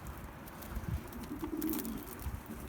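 Mardin pigeons with their young cooing softly, low murmuring coos in a few short bursts over faint background noise.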